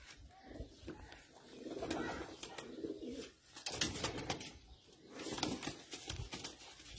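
Teddy flying pigeons with dyed feathers coo and flutter close by, soft throaty calls mixed with bursts of wing flapping over a busy, noisy background with no one speaking.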